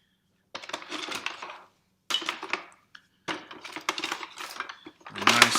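Berries and ginger pressed and scraped with a wooden spatula in a home kitchen, giving bursts of clattering, scraping and knocking that come in several rough strokes, growing louder and harsher at the end.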